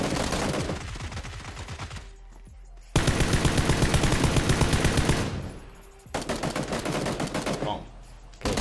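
Rapid bursts of automatic gunfire in the video game PUBG, three dense volleys of sharp repeated shots with brief gaps between them, loud and close.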